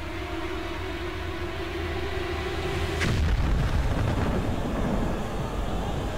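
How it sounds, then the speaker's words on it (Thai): A missile strike blasts a house in the video game Metro: Last Light: a steady low drone gives way to a sudden loud impact about halfway through, followed by a dense, sustained rumbling roar of debris and fire. "ไอ้นี่คือภาพตอนที่เรายิงจรวดมิสไซล์ใส่บ้านดาร์กวันนะครับผม"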